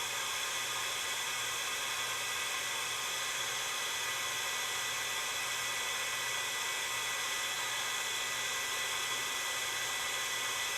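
A heating tool, like a heat gun, blows steadily and loudly on soft plastic, producing a continuous even whooshing hum with no pauses.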